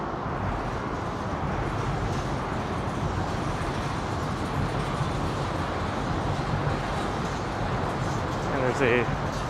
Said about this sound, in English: a Line 2 subway train rattling below us here.